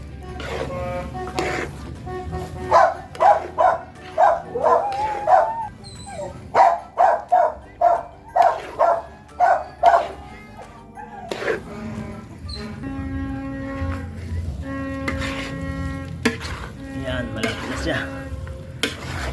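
A dog barks in a quick series of sharp, regular yelps, moderately close, while arroz valenciana sizzles and is stirred in a pan throughout.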